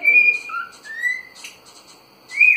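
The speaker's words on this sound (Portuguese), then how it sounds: "Tá cantando pra borracha." A cockatiel sings and whistles close by in a quiet room, giving a few clear, high whistled phrases with short pauses between them.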